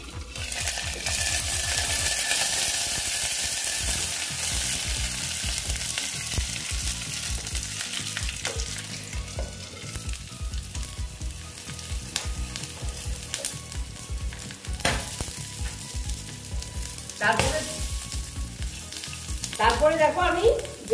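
Green chillies and curry leaves fry in a covered pan for a gram-flour breakfast dish, giving a close, loud, steady sizzle with crackling spits, stirring scrapes and a few metallic clinks toward the end.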